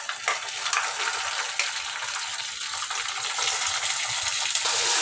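Ground paste hits softened onions in a hot pan and is stirred, giving a loud continuous sizzle with frying crackle and scraping, steady throughout with no talk.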